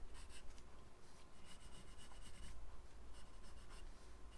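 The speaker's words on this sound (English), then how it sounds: "it's just a colored pencil, and all you have to do is draw some lines around the edges" Colored pencil pressed hard as it draws lines around the edges of a ghost figure on paper, a steady close scratchy rubbing with short repeated strokes and brief pauses, no voices.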